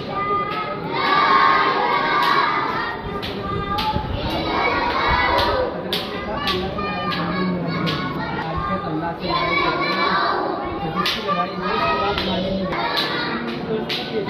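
Children at a madrasa in Thana Bhawan shout and chant together in a loud, lively crowd, with bursts of clapping and cheering throughout.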